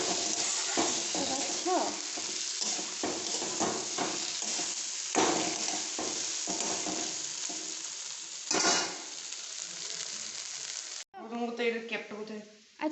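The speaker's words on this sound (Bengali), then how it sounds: "ভালো করে নাড়াতে হবে, মশলাগুলো ডিমের সঙ্গে মিক্স করবে।" Fried eggs tossed with spices in a pan sizzle steadily under irregular stirring scrapes and clacks, with a person talking briefly near the end.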